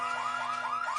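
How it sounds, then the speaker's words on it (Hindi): A cartoon car alarm wails in a steady repeating up-and-down electronic pattern, loud and close, sounding alone without any talk. "देखो अलार्म बज रहा है।"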